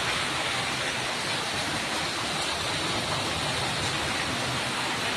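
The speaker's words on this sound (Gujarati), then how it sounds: "અમારે તો જોરદાર વરસાદ છે અમદાવાદમાં." Heavy monsoon downpour in Ahmedabad, a dense, steady roar of rain with no letup, loud and close throughout, and no voices.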